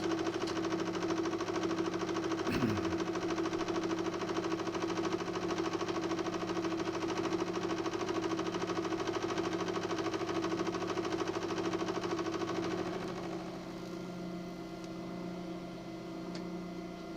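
A machine tool taking a final roughing pass on a quick-change indicator toolholder part, a steady loud mechanical hum with a rising whine and constant cutting drone that drops to a quieter idle near the end.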